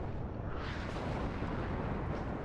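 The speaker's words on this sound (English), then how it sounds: "Check out the explosions there, though." Artillery explosions in the WARNO war video game, heard as a continuous loud rumbling roar of blasts with no clear gaps between impacts.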